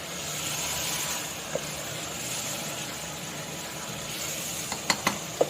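Spiced minced meat (keema) stirred in a pan, a soft continuous sizzle with a few sharp scraping clicks of the spoon toward the end, close and alone.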